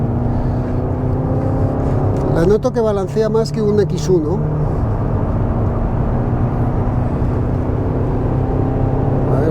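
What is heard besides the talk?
Mercedes GLA 200d engine at full throttle while driving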